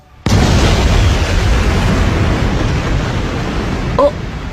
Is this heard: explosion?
yes